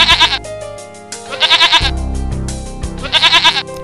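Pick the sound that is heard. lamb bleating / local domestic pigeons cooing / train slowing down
lamb bleating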